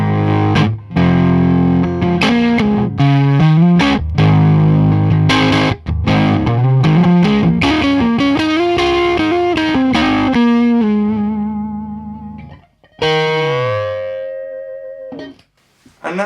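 An electric guitar in a clean tone with extra gain plays chords and bends through effects, loud and slightly distorted, before ringing notes fade and a final phrase sounds alone.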